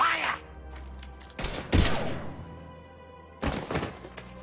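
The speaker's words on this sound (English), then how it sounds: "Now open fire!" Gunfire in the video game Mass Effect 3: a few loud, sharp bursts with heavy thuds and ringing decay, clustered near the start and again toward the end.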